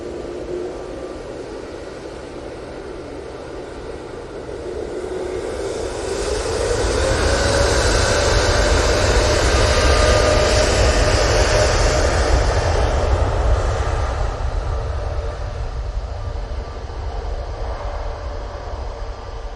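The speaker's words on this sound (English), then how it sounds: "We've got this TUI departing to Tenerife" A TUI airliner departing Manchester Airport for Tenerife roars with a broad jet-engine rumble that swells around the middle, then eases slightly while staying loud.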